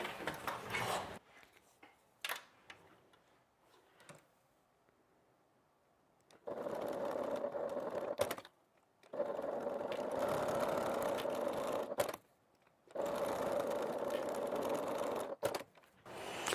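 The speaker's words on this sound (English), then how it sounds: "So I'm going to stitch down here, I'm going to turn and stitch this way, and I am going to stitch up here" A sewing machine stitches bag fabric with a half-inch seam allowance, running in three long steady bursts of motor whir separated by quiet pauses and a few clicks as the fabric is turned.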